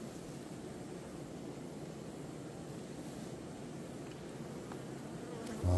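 Bees swarm and buzz densely around a honeybee hive, a steady close hum that holds unbroken for the whole stretch with no voices over it.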